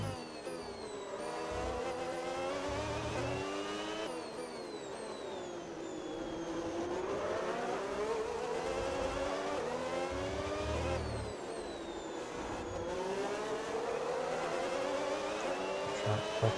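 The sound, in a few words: Red Bull F1 car engine racing in F1 26 video game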